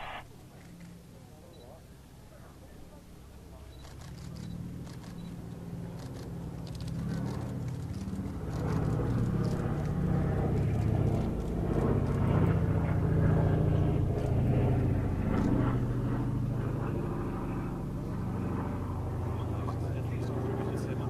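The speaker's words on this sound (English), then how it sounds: "Final pass with smoke on once again, simulating the B-17 returning with 2 damaged engines" A Boeing B-17 bomber making a low final pass trailing smoke, simulating a return with two damaged engines, gives a deep, droning engine rumble that builds and stays loud before easing slightly, with talk over it.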